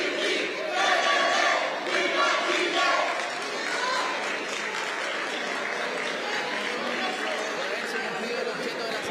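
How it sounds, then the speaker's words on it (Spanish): Parliamentarians in a chamber applaud after a constitutional reform passes, sustained clapping that is loudest early and then tapers to a steadier patter, mixed with crowd voices and a broadcast voice talking over it. "parlamentarios aplaudiendo de distintos sectores"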